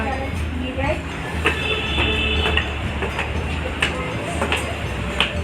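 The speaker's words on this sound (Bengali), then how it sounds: "টয় ট্রেন যাচ্ছে" Darjeeling toy train passing close by, a rumbling rail clatter with rhythmic wheel clicks and a brief squeal, loud and continuous over outdoor ambience.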